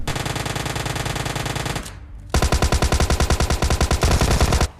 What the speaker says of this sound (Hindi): मेरा मतलब है गन शॉट्स यार